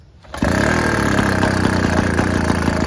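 An antique Zundapp 50cc clutch moped engine starts abruptly, then idles steadily with an even, close putter that continues without any talking.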